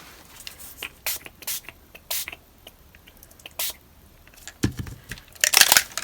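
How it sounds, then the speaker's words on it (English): Distress Oxide spray bottle spritzing colour onto a craft background, a series of short sharp hissing mist sprays, several spaced apart, then a rapid cluster of quick pumps near the end, close and clear. "And again, I'm just going to spritz it"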